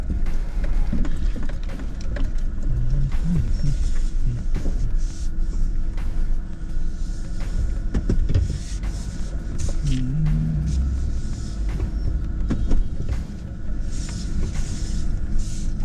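A vehicle rolls and drives on with a steady, close low rumble, its engine and road noise continuous throughout, while brief voices are heard faintly in the background.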